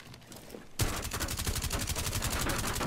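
Rapid automatic gunfire in Rainbow Six: Siege breaks in after a quiet lead-in and then runs as a steady, loud stream of close shots to the end.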